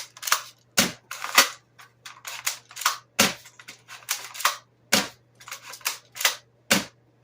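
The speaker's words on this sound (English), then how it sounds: "So I'll shoot over here, and you'll be able to hear it" ASG Franchi Spas-12 airsoft shotgun firing repeatedly, about a dozen sharp snapping shots in an irregular quick rhythm with short gaps, each followed by a faint mechanical clack, close and fairly loud with no talking.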